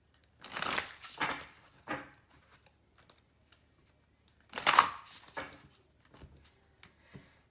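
An oracle card deck is shuffled and cards are pulled, giving close, crisp bursts of riffling and sliding card sounds separated by short pauses, with no talking.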